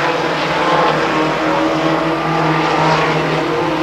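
A 1969 race truck roars around an oval speedway at Stockton 99, its loud engine droning steadily and close with a slight swell as it passes.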